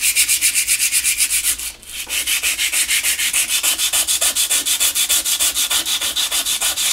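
Steady rhythmic sanding of metal transformer laminations from a Marshall JCM800 amplifier, a harsh rasping scrape repeating in fast even strokes, close up, with one brief pause early on.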